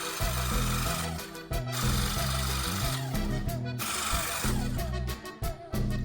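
A Parkside cordless pressure washer sprays a wheelie bin caked with built-up dirt, a steady loud hiss of water jet and pump drone with brief dips as the trigger is released, close by.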